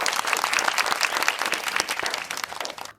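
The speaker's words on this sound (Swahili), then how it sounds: "tunakupongeza sana ndugu Imani Mwenda Mseke, naomba wote tumpigie makofi." A gathering claps for Imani Mwenda Mseke, a black-belt karate athlete and silver medallist, a lively burst of crowd applause with rapid overlapping claps that tapers off at the end.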